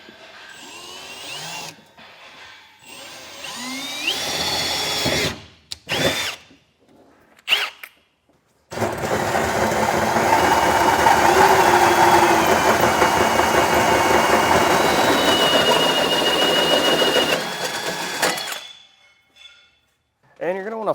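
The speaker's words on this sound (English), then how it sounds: "So first I'm going to go through with a 1/4-inch drill bit, and then I'm going to go back with the hole saw." A power drill bores through a truck bed, first with a 1/4-inch bit and then with a hole saw, for an underbed hitch kit on a 2015 Chevrolet. Several short bursts come first, then one long steady grinding run, loud and close.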